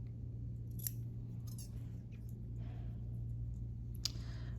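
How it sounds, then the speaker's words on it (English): A few sharp, quiet snips of scissors trimming fabric on a mug rug quilt, spaced irregularly over a steady low hum, with no talking. "now I'm just gonna take my scissors on this one"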